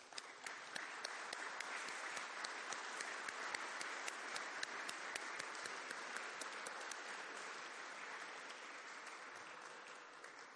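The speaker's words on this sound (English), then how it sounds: "So let's applaud on that also." At a peace movement panel event, an audience gives sustained, even applause of dense, crisp hand claps, heard from a distance and fairly faint, lasting about ten seconds without a break.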